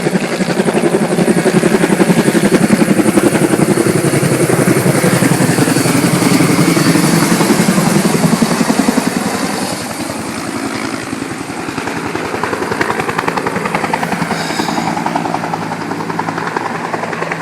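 A helicopter approaches to land near an evacuation center with temporary shelters, its continuous rotor thump loud and close, easing slightly in volume partway through.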